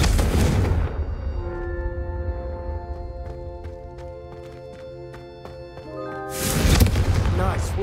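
A fiery Confringo spell blast from Hogwarts Legacy, cast in a training duel: a loud burst opens, sustained ringing musical tones follow, and a second heavy blast erupts near the end.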